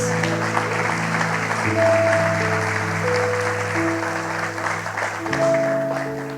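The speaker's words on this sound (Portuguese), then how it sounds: "Dá um aplauso para Jesus" A church congregation applauds for Jesus during a Sunday morning service, a continuous crowd of clapping hands blended under sustained organ or keyboard chords that shift pitch partway through.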